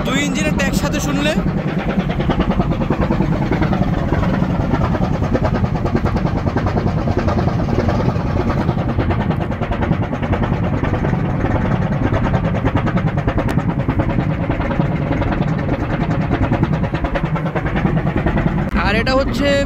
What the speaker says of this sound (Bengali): তো 2 ইঞ্জিনের একসাথে শুনলে